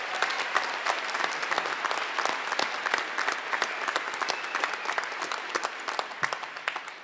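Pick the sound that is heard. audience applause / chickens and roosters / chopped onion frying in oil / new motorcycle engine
audience applause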